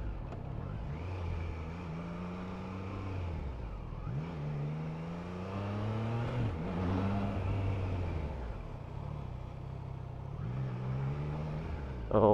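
A 2023 Triumph Trident 660 motorcycle engine revs repeatedly, its pitch climbing and falling in several smooth sweeps, steady and fairly close throughout, with no talking.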